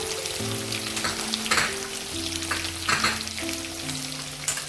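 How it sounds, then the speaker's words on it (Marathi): Ginger garlic paste, green chilli and onion frying in hot oil for a pulao, a steady close sizzle with stirring clatter, under a tonal melody of background music throughout. "आलं लसणाची पेस्ट घालणार आहोत, नंतर हिरवी मिरची, कांदा,"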